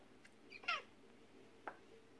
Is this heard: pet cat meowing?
yes